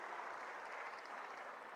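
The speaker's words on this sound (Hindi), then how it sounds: "एक बार जोरदार ताली बजा करके उसका समर्थन कर दीजिए" A rally crowd claps in applause, a dense, even patter of many hands heard at a moderate distance throughout, with no voices over it.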